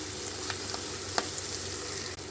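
Ginger garlic paste sizzles steadily in hot oil, a close, even crackling hiss with a few faint pops.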